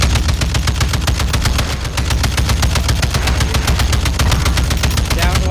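Rapid automatic gunfire from the video game Warzone, a dense, steady stream of loud shots for several seconds with a faint voice underneath.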